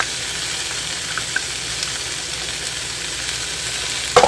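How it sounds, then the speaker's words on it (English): Corn, peas, garlic, rosemary and thyme sizzle in a frying pan with a steady, bright hiss that holds throughout, ending in a few quick clinks of stirring. "We're going to go ahead and add our corn and peas now. As well as our garlic, rosemary,"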